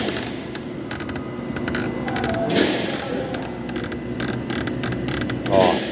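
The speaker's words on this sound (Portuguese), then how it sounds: "Compass, barulho de rangido na dianteira" Jeep Compass front suspension stabilizer link creaking at its joints, repeated squeaky groans and rubbing creaks coming in irregular bursts close up, over a low background rumble.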